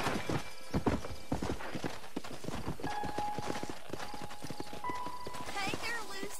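A horse in the Western video game Red Dead Redemption clip-clops with steady hoofbeats and whinnies once or twice, while people talk over it in the foreground.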